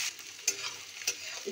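Chopped onions fry in hot oil with fennel, cumin, carom and fenugreek seeds, a soft close sizzle broken by two brief stirring scrapes.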